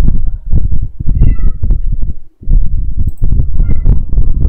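A cat meows loudly and close by in a run of repeated, uneven calls with brief gaps, one short pause partway through, with no talking over it.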